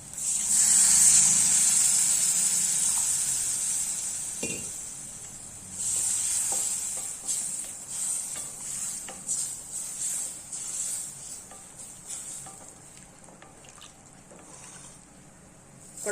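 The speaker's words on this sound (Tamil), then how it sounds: "நான் இப்போ தண்ணி ஊற்றி நல்லா காய் வேக வச்சுக்கிறேன்." A pan of vegetables simmers in water for a Tamil curry with a steady, close hiss and bubbling. Faint clinks and stirring come through now and then.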